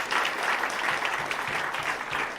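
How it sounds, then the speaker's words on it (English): Audience applause at a Google talk with comedian Bo Burnham, a steady, dense wash of clapping from a large crowd that holds even through the short clip, with faint speech beneath. "we just got the goodbye clap"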